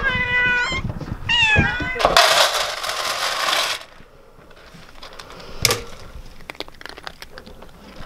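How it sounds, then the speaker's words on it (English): Several cats meowing in a barn during a Wyoming blizzard, two loud drawn-out meows up close at the start, then a burst of rustling noise and scattered clicks and clatter. "We have a ridiculous number of cats."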